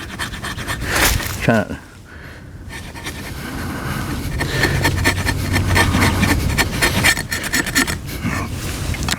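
The spine of an ESEE Junglas large survival knife scraping along wood gives a rough, continuous rasping that builds and holds, close up, with someone speaking briefly near the start.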